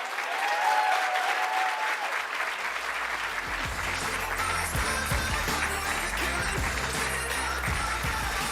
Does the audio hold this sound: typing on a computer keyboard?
no